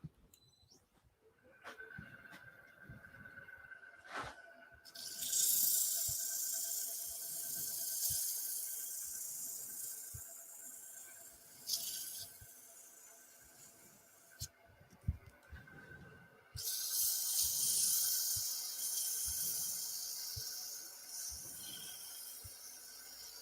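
Sandpaper rubbed over wood in bursts of broad raspy scratching, separated by brief pauses and a few knocks, close by with low background noise.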